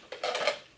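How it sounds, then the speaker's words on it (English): A camping stove dropped into a metal backpacking cook kit pot, one brief hollow metallic clatter and rattle, close and fairly quiet. "might as well put the cook kit together. So I just throw the stove in there"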